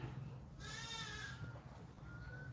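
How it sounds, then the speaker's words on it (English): A sheep bleats once in a drawn-out, wavering call, moderately distant over steady outdoor background noise, with a fainter second bleat near the end. "Look at the sheep."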